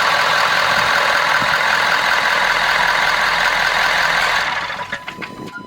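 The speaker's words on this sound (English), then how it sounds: "Big old diesel engine going." The 6.7L diesel in a Ford F-250 runs at a steady loud clatter and drone, close by, then fades near the end into quieter clicks.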